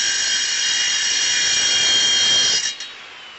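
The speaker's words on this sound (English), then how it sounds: "put a diamond blade on the old skill saw so he could cut some plates" An old Skil circular saw with a diamond blade cutting steel plates on a hot rod project, a loud sustained high-pitched whine that ends with the blade spinning down.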